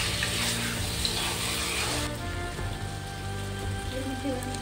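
Marinated chicken for dhania chicken kosha is stirred and fried in a pan: a loud, close sizzling hiss for about two seconds that then drops to a quieter frying under steady background tones.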